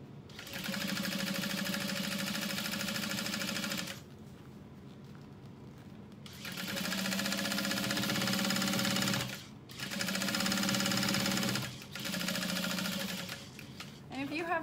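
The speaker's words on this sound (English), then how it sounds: "just gonna sew down one side." A sewing machine runs a straight stitch down one side of a garment made from the Harriet sewing pattern, with long, steady, loud bursts of motor hum and needle clatter separated by short pauses.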